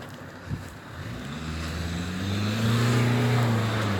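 A vehicle's engine rumbles in the distance and builds louder as it passes, with a steady low drone and rising tonal whine over the final seconds, no voices.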